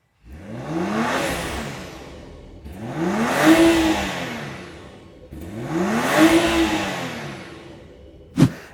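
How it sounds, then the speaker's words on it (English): A 2024 BMW X5 xDrive50e plug-in hybrid SUV passes by three times, each pass a rising and fading whoosh of tyres and a soft electric whir, with a short sharp knock at the end. "if you want to hear what this electric SUV sounds like"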